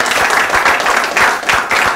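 Loud, energetic audience applause greets a jazz musician as he walks out on a talk show, many hands clapping in a thick, continuous wash with surging waves.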